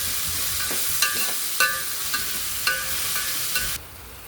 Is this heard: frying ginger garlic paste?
yes